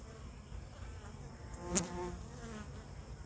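Honey bees buzz steadily around a brood frame in a hive, a close, continuous low drone with one brief louder bee passing near.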